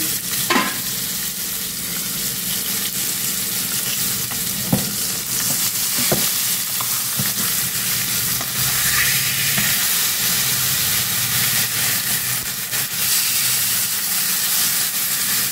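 Sankara fish frying in oil in a pan, a steady close sizzle and hiss running throughout with a few sharp pops and crackles and no voices.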